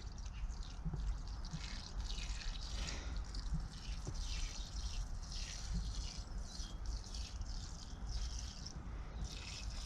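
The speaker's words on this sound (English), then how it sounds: "I'm going to water each one of these" Calendula seedlings in a tray being watered, a steady close trickle and patter of water running continuously throughout with no talking.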